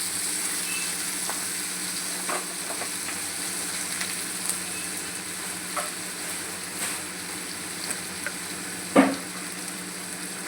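Chopped onion with curry leaves and salt sizzling in oil in a pan, a dense, even frying hiss close by with a few soft scrapes of a spoon and one sharper knock near the end.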